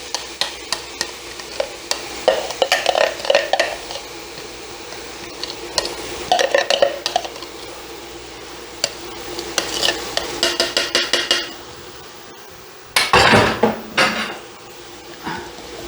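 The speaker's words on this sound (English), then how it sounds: "We got a nice little sizzle." Beef and peas sizzle in a non-stick pan while being stirred, a steady frying hiss broken by repeated close scraping and tapping of the utensil against the pan, with a brief quieter pause before more stirring.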